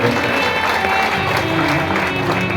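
At a Bhagwat Katha gathering in Hasalpur village, an audience claps loudly and continuously, a dense, steady wash of applause with no break.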